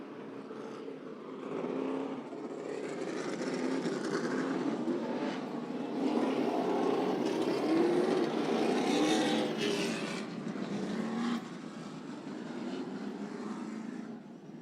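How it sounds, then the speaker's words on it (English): Field of race trucks rolling slowly around a racetrack behind a Corvette pace car under caution, a sustained low engine drone that swells to a steady crowd of motors mid-way and then eases, heard from a distance. "They roll behind the pace car, the Corvette pace car, bringing the field around"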